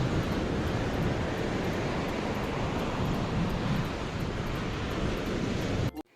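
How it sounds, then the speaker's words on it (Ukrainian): Steady broadband roar of sea surf washing continuously, loud and close, with wind mixed in, ending abruptly. "Давайте з вами послухаємо, як шумить море."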